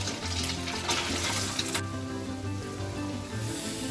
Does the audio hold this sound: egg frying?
yes